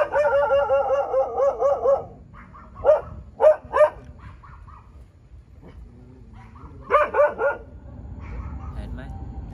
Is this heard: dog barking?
yes